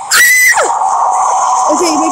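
A player in a Roblox Slendytubbies game lets out a shrill, piercing screech that slides downward, followed by a sustained high whine, loud and close.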